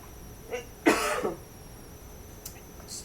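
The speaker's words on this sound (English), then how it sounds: "You have to excuse my cough" A single harsh cough rings out close by, preceded by a softer throat sound, followed by quiet and a few faint clicks.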